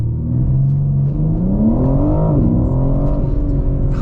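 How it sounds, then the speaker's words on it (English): A 2022 BMW M4 Competition coupe performs a launch control start, its engine held at high revs then roaring as it accelerates hard, pitch climbing through the gears from inside the cabin, loud and continuous. "let's try if we can do a launch control here."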